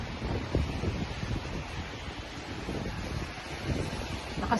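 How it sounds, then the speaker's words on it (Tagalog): Strong, gusting wind roars during a winter snow storm, a continuous loud rushing buffeting the microphone with swells and dips in force and no voices. "Lakas ng hangin."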